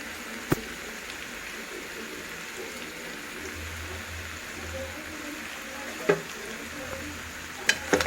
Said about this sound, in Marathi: मीठ मिक्स करून घेऊ